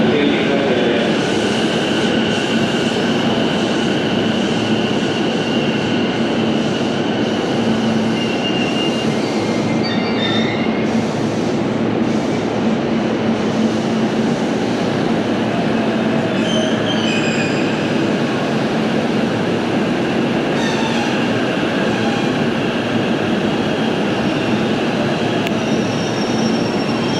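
A limited express train arrives at Tachikawa station with a steady, close rumble of wheels on rails. High metallic squeals and clatter come and go throughout.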